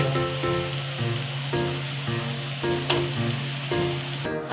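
Cabbage bhaji fritters deep-fry in hot oil with a steady, close, crackling sizzle that hisses continuously throughout, joined by a faint background hum and occasional brief pops.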